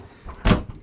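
A closet door in the rear of a 2022 Prevost Liberty Coach motorhome gives one short, close thud as it is opened in a quiet interior.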